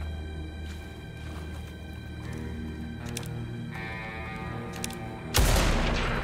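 Rifle fire from a buffalo rifle in the Blood West video game: a single sharp, loud shot near the end, after a stretch of ambient game sound with a few faint distant pops.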